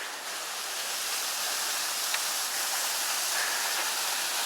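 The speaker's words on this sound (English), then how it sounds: "Small waterfall up here." A small waterfall in wet Tasmanian rainforest rushes steadily as a constant broadband hiss at moderate distance, with no voices over it.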